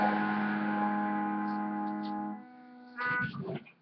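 An electric guitar run through distortion plays chords. One thick chord rings out for over two seconds and fades, then a short second strum breaks off.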